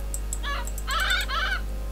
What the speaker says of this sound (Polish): A właśnie, kruki.